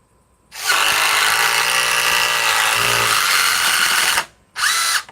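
A Ryobi drill driving into wood: a close, loud whirring drive with a steady motor whine lasting about four seconds, a brief pause, then a second short burst.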